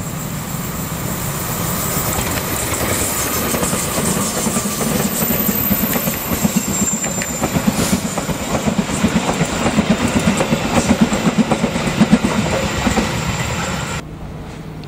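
Three coupled SI PUONG locomotives run together on rails in Java, a loud continuous rumble with rhythmic wheel clatter and a faint high squeal, steady throughout before dropping off sharply at the end.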